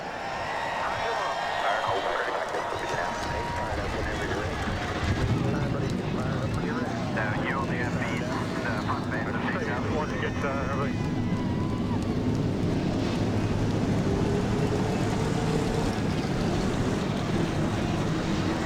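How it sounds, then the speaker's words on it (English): Twenty-one stock cars fire their engines at Daytona in the NR2003 racing game, making a steady, loud broadband roar with a windy rush. The roar holds evenly from start to finish. "21 cars fire their engines for the second dual race of the day here at Daytona"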